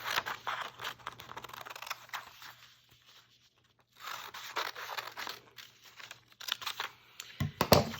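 Papery snipping and crinkling of scissors cutting paper, close and fairly soft, in irregular bursts with a short quiet gap midway, then a louder scrape at the end.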